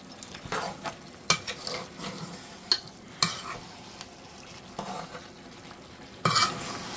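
Goat meat curry being stirred in a sizzling pan, with repeated scraping and clinking of a utensil against the metal over a soft, steady frying hiss, close and moderately loud.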